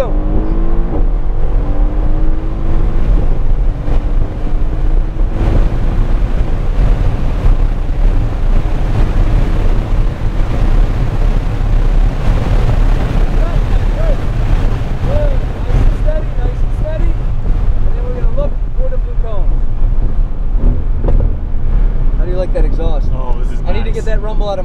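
A Mercedes-AMG GT-R drives hard around a race track, its engine droning and rising steadily throughout with a loud, continuous roar, while a person talks over it at times.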